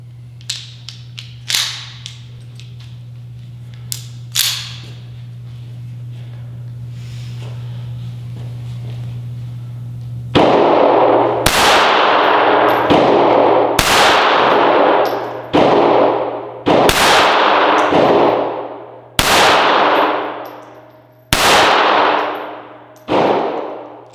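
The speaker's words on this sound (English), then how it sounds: "Let's start off with the Kimber Micro Raptor 380, shooting at the number 2 from 5 yards." A Kimber Micro Raptor .380 pistol fires at a steel target from 5 yards, sending out a string of loud, sharp shots, each followed by a ringing metallic clang, spaced about a second or two apart after a few quieter clicks.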